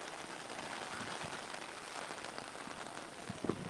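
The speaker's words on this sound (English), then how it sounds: "Whoa, dude, it's like totally raining." Steady rain patters on a surface, a dense, even hiss with a few louder drops near the end, with no voices.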